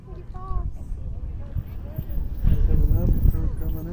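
Hoofbeats of a horse galloping off at a Pony Express relay exchange in Dulce, New Mexico rumble under steady crowd chatter and voices, growing somewhat louder toward the end.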